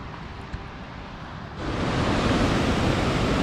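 A waterfall at Ebor in New England, heard from the top, gives a steady broadband rushing roar that swells noticeably louder partway through and then holds constant, with no voices.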